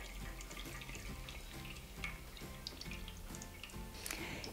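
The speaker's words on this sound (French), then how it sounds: "Je vais laisser s'égoutter mon lait végétal." Homemade plant-based milk draining through a sieve, a steady, soft liquid trickle with scattered drips, close and continuous with no voices.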